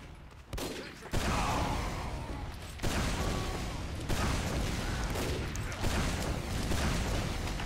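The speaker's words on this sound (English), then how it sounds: "I'm missing a lot of shots" Rapid gunfire from the Team Fortress 2 video game crackles in dense, repeated bursts over several seconds. It is moderately loud and heard alone, with no speech.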